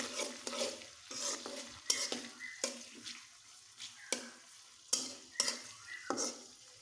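Onions hit hot oil, giving bursts of crackling sizzle interrupted by repeated clattering stirs and scrapes against the pot, uneven and fairly faint, without speech.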